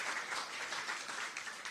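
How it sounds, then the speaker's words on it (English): An audience at a store grand opening claps in dense, steady applause, moderately distant and without voices on top. "Give yourselves a big round of applause for your patience."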